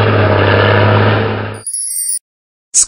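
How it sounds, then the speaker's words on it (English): Bulldozer engine running loud and steady for about a second and a half, a deep low rumble with rattling, then cutting off abruptly; a short high chime follows. "Bulldozer."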